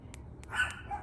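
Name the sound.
dog barking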